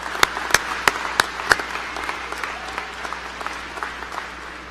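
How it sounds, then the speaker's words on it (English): An audience at a 2017 high school graduation claps for the team, with a few sharp loud claps up front over a steady patter of applause that thins out toward the end. "I think you owe them a little round of applause."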